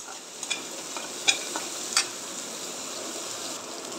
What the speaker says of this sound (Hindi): लहसुन पेस्ट भून चुका है।